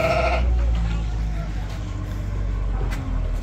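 A sheep bleats once near the start inside a barn, followed by a low steady rumble like a passing vehicle and faint background noise.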